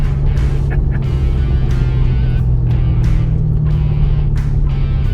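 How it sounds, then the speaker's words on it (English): A 2008 Pontiac G8 engine drones loudly from inside the car as it accelerates, a steady low rumble with rising surges and no talking. "you just give it a little bit of gas"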